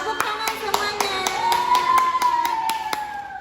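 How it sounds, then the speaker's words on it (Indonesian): A classroom group claps in a quick, steady rhythm, sharp hand strikes repeating about four times a second over a sustained voice-like tone and murmuring. "Tepuk tangan semuanya."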